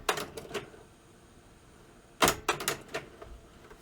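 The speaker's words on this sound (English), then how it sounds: "Volume all the way down just so we can hear the mechanism" The cassette mechanism of a Panasonic RX-DS50 boombox, overhauled with a new gear, gives a quiet run of sharp mechanical clicks and clunks in two close clusters with a faint hum between them.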